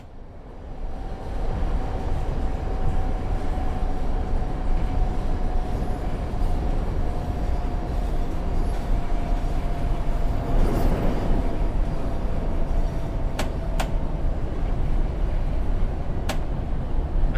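A commuter train in Train Sim World 6 slows down with a continuous rolling rumble and a faint steady whine. Brief high clicks come near the end.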